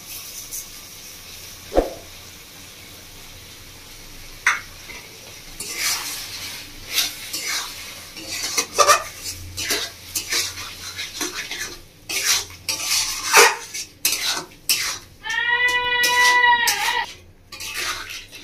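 A utensil stirs sugar into tomato chutney in a pan, making repeated scraping and clinking strokes against the metal that come in irregular bursts. A high meow-like cry cuts in near the end.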